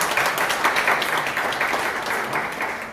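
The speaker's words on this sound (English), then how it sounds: "Could we give the committee one more round of applause," A function audience applauding a committee at a booklet launch and fundraising event, steady dense clapping from a crowd throughout.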